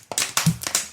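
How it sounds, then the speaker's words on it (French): A plastic bottle is crushed by hand close by, giving several sharp crackling crinkles and pops in an irregular burst. "le bruit que vous entendez, c'est la bouteille plastique que j'écrase"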